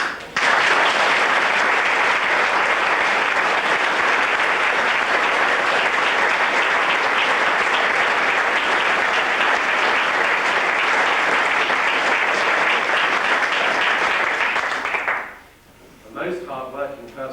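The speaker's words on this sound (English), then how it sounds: "I'd be grateful if we could give a round of applause to those people." Sustained applause from a theatre audience clapping for the staff behind a show, dense and loud for about fifteen seconds before fading out, with a voice resuming briefly at the end.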